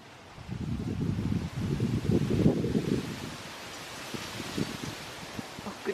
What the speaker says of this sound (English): Goodness, you can hear the wind.